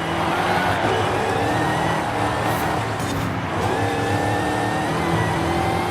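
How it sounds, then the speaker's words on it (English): Supercharged engine in the Rods and Customs racing game, a loud continuous mechanical whine and roar that holds steady throughout with no break. "that supercharger whining whenever I let off the gas in the middle of a jump"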